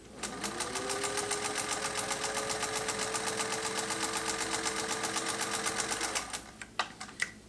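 A Singer 201-2 sewing machine stitches at a steady, fast hum with a rapid regular needle patter, running evenly for about six seconds before stopping, followed by a few faint mechanical clicks.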